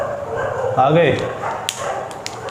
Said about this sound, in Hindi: भौंक लो पहले तुम